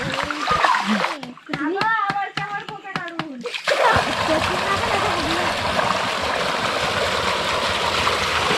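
Water splashes and streams steadily in a well after a short burst of clicking, with some children's voices mixed in early on.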